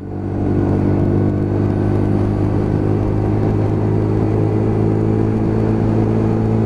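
A new Lexmoto LXR 125cc Euro 5 motorcycle with a six-speed gearbox pulls through the gears at low revs, its engine droning loud and steady from the rider's position over a continuous road rumble.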